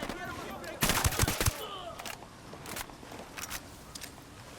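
Bursts of automatic gunfire in the Ghost Recon Wildlands video game, a loud cluster of rapid shots followed by scattered quieter single cracks, mixed with background voices.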